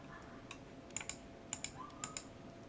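Computer mouse clicks selecting photos one after another for an online calendar, sharp close clicks in irregular pairs over a quiet room hum, no talking.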